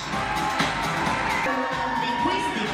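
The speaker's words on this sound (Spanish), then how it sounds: "¡Aplauso!" An audience at a beauty pageant event cheers and whoops for a dance company's performance, a loud, dense crowd roar with shouts throughout, and voices mixed in.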